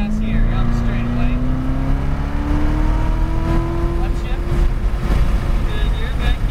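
Corvette C7 Z06 at full throttle on a Las Vegas track, a loud steady engine roar with pitch rising gradually throughout, heard close from inside the car under ongoing driving instruction.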